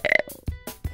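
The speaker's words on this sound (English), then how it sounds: "that's the loudest baby burp I've ever heard" A baby gives a loud burp, a short series of throaty eructation bursts close to the microphone, with no talking over it.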